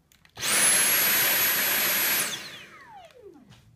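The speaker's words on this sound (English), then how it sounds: "On your max power, when there's more difficult things to hoover, just place it into max on the top." Dyson V8 Absolute cordless vacuum cleaner on max power: a loud, high-pitched motor whine holds steady for under two seconds, then the motor switches off and winds down in a falling tone.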